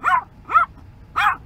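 A Yorkshire terrier barks three times outdoors on a windy day in Texas, sharp close yaps with a short gap between the second and third.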